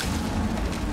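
A single heavy explosion from the video game Rainbow Six Siege: a dense, loud boom lasting about a second, with no voices.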